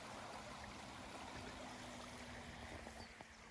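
River flowing beside an overgrown wild campsite, a constant broad rushing wash with faint trickling detail, steady and moderately distant with no talking.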